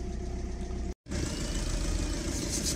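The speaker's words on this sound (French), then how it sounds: "Donc le véhicule est en train de tourner." An Audi engine idles steadily after sitting unused for a long time, with an intake manifold flap position fault. The low, even rumble is close and continuous, cutting out for a split second near the start before resuming unchanged.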